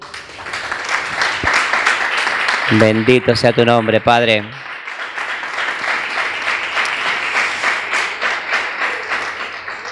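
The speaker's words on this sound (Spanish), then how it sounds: "damos un aplauso al Señor" A church congregation claps along steadily through a worship service, the applause sustained and fairly loud from start to finish while a voice briefly speaks over the clapping.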